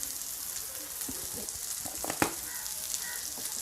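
Fish pieces frying in hot oil in a home kitchen, a soft continuous sizzle with scattered crackles and a sharper spatter burst partway through.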